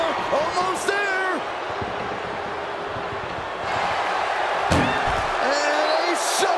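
An ambulance door slams shut during a wrestling ambulance match, one heavy thud partway through amid crowd noise, with an announcer talking over it.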